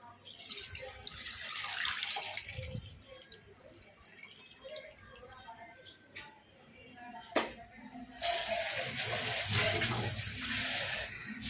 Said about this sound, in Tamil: தேவையானது எவ்வளோ தண்ணியோ அந்த மாதிரி நம்ம ஊற்றிக்கலாம்